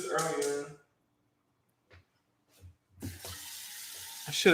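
A kitchen tap runs into a pot being filled with water for boiling. A voice comes first, then after a pause and a couple of soft knocks the water gushes in steadily and close by.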